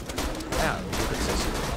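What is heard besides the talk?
machine gun fire in the video game Borderlands 2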